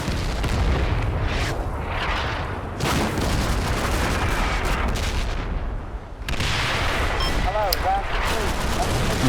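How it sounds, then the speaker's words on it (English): Heavy mortar rounds and gunfire boom in the World War II video game Combat Mission: Battle for Normandy, a dense run of blasts and rumbling impacts near the hedgerows, with a brief lull before another burst of firing. "I'm really disappointed with these mortar rounds actually."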